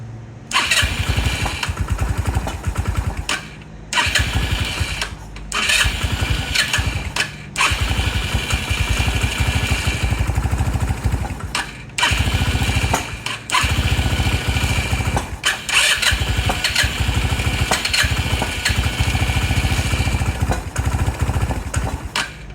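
A Lance Cali Classic 125cc scooter engine cranks and catches several times, sputtering with short gaps, then settles into a loud, close, uneven idle that keeps running throughout.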